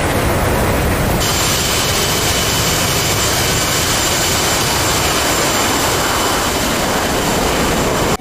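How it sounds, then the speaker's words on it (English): Jet aircraft making a low flyby over a runway in the DCS World flight simulator: a loud, sustained roar with a steady high whine, unbroken for about eight seconds. "Coming for a flyby, runway."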